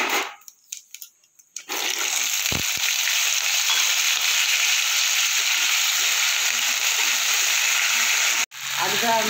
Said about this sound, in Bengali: এবার আমি দিয়ে দেবো কেটে রাখা আলু।